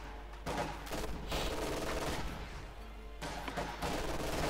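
Dense battle gunfire from a Company of Heroes 2 match, rifle and machine-gun bursts overlapping in a continuous fusillade with brief dips, loud and sustained across the clip.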